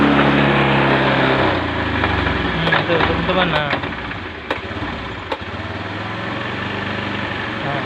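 A Honda Beat FI motorcycle with an engine fault, its motor running roughly and sputtering as it is throttled, then fading with uneven pops and hiccups while someone talks over it.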